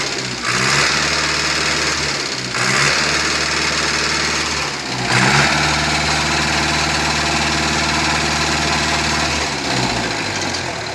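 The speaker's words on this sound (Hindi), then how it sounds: "अच्छा 90 HP का इंजन है भाई।" A 90 HP Canter truck engine fitted to a Mahindra tractor in a village, idling with a steady, loud, continuous rumble and a brief rev-like swell midway, heard up close.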